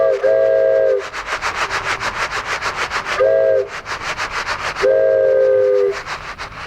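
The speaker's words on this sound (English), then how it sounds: "this is a train whistle that I whittled" A hand-whittled wooden train whistle blown for foley sounds three short breathy, chord-like hoots with a rhythmic chuffing breath pattern between them, close and loud.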